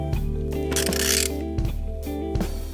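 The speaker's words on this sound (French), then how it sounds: "Et maintenant, on va pouvoir faire des tours de vilebrequin." A ratchet turns the crankshaft of a Peugeot 206 RC engine by hand, giving a few mechanical clicking and ratcheting strokes close up, with one longer bright grinding burst partway through.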